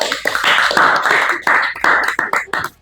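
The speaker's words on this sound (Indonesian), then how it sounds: "Tepuk tangan dulu dong." A small group clapping for high school athletes who have just won a basketball competition, a short uneven round of close claps that quickly dies away.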